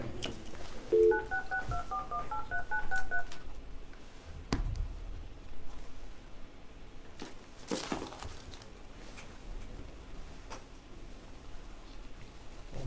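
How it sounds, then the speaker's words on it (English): Telephone keypad tones sound while a phone call is placed in a meeting room, a short run of dialing beeps early on, followed by handling thumps and low room noise with no talk. "We're still trying to get her on the phone."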